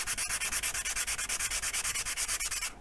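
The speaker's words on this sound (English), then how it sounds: "I will also sand the insides of these just with 220" Rhythmic back-and-forth sanding of the inside of a wooden keepsake box with 220-grit sandpaper, close and steady, about a dozen quick strokes with no talking.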